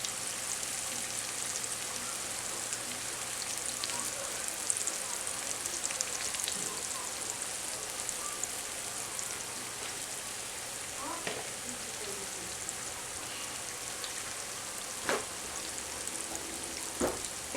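Bass fillets frying in oil in a cast iron pan, a quiet, steady sizzle with scattered pops and crackles throughout.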